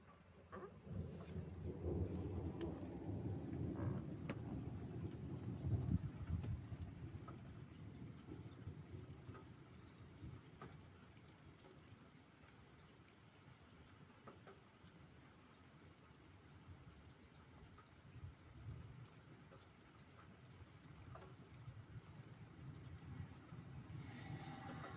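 Close thunder rumbling low and heavy during a rainstorm with gusty wind, the roll strongest early and then fading into a steady rain hiss with further softer rumbles.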